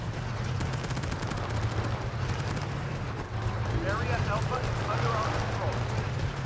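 Steady gunfire in the shooter World War 3, with distant rattling bursts running under a continuous low rumble throughout and brief chirpy sounds in the second half.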